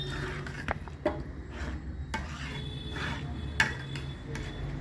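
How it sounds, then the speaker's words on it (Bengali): A utensil stirring milk powder into cold milk, giving soft scraping swirls and a few sharp clinks against the container, steady and close with no talking. "এবার এটাকে আমি আস্তে আস্তে মিশিয়ে নেব।"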